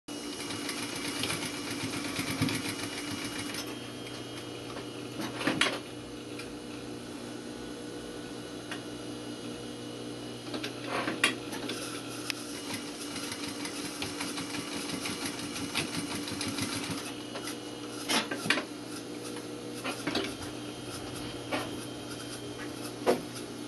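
A sewing machine puts a short back stitch into a welt pocket, a steady low mechanical hum running throughout with a few brief louder ticks and bursts of stitching, close and fairly quiet with no talking.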